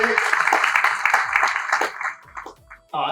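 Audience applause fills a hall at a Hindi seminar and NET-JRF political science award ceremony. Dense, steady clapping with overlapping voices fades after about two seconds, with a few scattered claps at the end.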